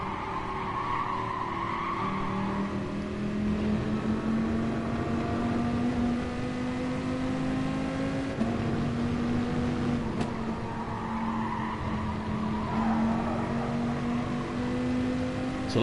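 Dodge Viper race car in Gran Turismo Sport, its engine droning at a steady high pitch that climbs and dips through gear changes, with tire noise, continuous and prominent.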